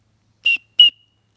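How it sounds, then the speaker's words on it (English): Two short, shrill toots from a small signaling whistle, evenly spaced and clear against silence. "There's the whistle, right? The little toot toot."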